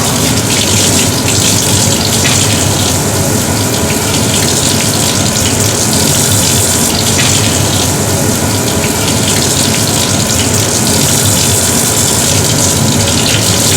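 Tap water runs steadily and loudly over soapy hands at a scrub sink while they are rinsed before surgical gowning and gloving, a continuous close gush with no talk.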